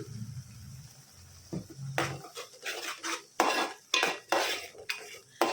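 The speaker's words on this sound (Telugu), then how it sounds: "నూనె పైకి తేలేదాకా వేపుకుందామండి దీన్ని కూడా" Onions frying in oil with turmeric for prawn curry, a low sizzle at first, then repeated loud spoon scrapes and clatters against the pan in irregular bursts, close and without talk.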